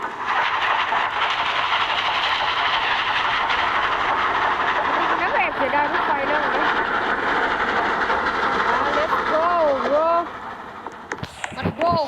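A video game train rumbles past with a steady roaring clatter and rising whistle-like tones, then the noise drops away near the end while a voice speaks briefly.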